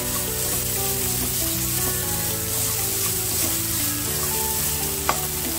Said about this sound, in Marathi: बारीक चिरलेली शेवग्याची पाने. चांगली आपण छान आधी परतून घेऊया.